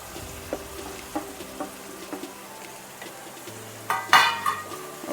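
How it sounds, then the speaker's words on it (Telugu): Fried okra goes into a gravy pan and is stirred, giving soft scrapes and clinks over a low simmer, with a louder clatter of utensil against pan near the end; no talking. "వేసేసి ఒకసారి కలిపేద్దాం."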